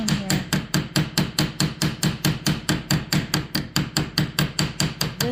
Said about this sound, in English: gonna hammer it down here.